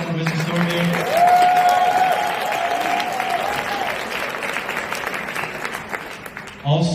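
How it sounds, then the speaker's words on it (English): Audience applause at a convention, a broad sustained wash of many hands clapping that holds steady for several seconds and then slowly thins, with a tone sounding briefly over it. "can we get a round of applause for Mr. Soar here?"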